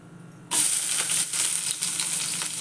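Onion dropped into a hot pan for paneer chilli, a sudden burst of sizzling after a quiet start, then steady frying with a few stirring scrapes, close and unvoiced.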